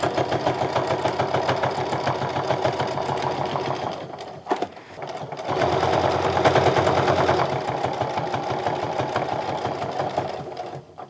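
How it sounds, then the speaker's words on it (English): A sewing machine stitches a fabric frame wallet in a loud, steady mechanical whir, briefly pausing and starting again partway through, with no voices. "so I finished stitching"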